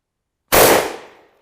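A single sharp, loud rifle shot from a Carcano firing an 8mm Mauser round, with a sudden blast and a short, decaying echo.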